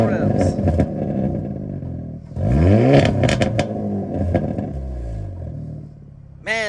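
A factory, unmodified exhaust on a 2023 Hyundai Elantra N is revved a couple of times, with loud rising blips and a burbling idle between them, heard up close over some background talk.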